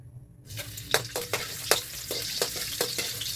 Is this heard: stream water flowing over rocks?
no